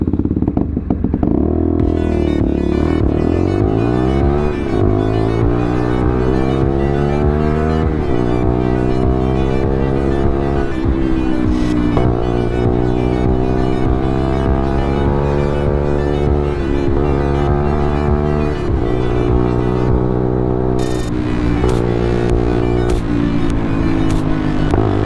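A motorbike rides through city streets in the Jewellery Quarter with its engine loud and close throughout, rising and falling in pitch as the rider shifts gears and accelerates, with occasional clicks and wind buffeting.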